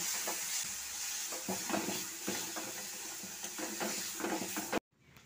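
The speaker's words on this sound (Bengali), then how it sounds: "তারপর মশলাগুলো বেগুন, আলু ও টমেটোর সঙ্গে খুব ভালো করে মিশিয়ে নিচ্ছি" Spices being stirred into eggplant, potato and tomato in a pressure cooker pan, with a low sizzle under repeated close scraping and knocking strokes of a spoon, ending abruptly in silence.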